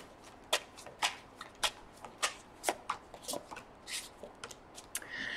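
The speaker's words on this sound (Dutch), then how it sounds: "Dus dan de kaarten schudden om te kijken wat deze week voor de kreeft gaat brengen." Tarot cards shuffled by hand in a series of crisp riffling bursts about every half second, close and fairly quiet, with no voices over them.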